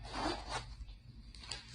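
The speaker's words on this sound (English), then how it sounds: "It's got this cute little zipper here." A small zipper on a Lucky Brand wristlet is pulled, a soft, close rasping slide followed by a couple of quieter brief scratches, faint and with no talk.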